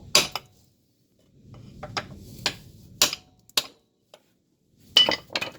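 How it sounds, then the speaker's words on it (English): Several sharp metallic strikes of a mason's hammer against a half shaft stub, spaced irregularly with short pauses, ringing brightly against a quiet background. "What I'm using is a mason's hammer."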